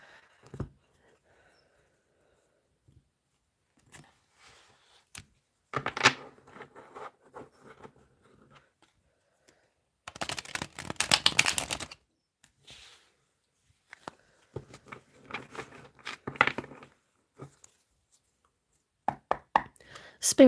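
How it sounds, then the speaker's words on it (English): Quiet tarot card shuffling: scattered soft taps and flicks, with a few brief riffling bursts spread across a mostly silent stretch. "Let's do one more shuffle."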